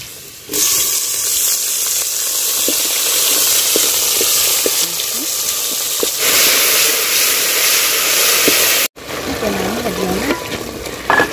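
Onions and tomatoes fry in oil over an outdoor village cook fire with a loud, steady sizzle and occasional stirring, then the frying cuts off briefly and a voice speaks over a softer hiss.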